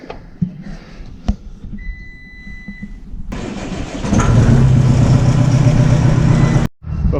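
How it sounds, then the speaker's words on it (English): A skid steer on a farm starting up with a few clicks and a crank, then its engine catching and rumbling loudly and steadily as it warms, close by. "Warm this skid steer up."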